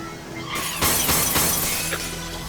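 Objects shattering and breaking in the Astro Bot video game: a loud glassy smash opens the moment, followed by a second crash and scattered tinkling debris, with no talking.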